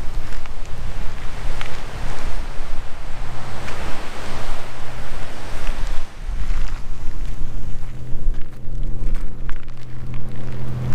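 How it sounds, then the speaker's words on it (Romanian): Strong wind buffets the tip of a seaside peninsula in Vietnam on the South China Sea, a loud, constant roar of gusts and microphone wind noise mixed with surf, steady throughout with no speech. "bate vântul foarte tare aici"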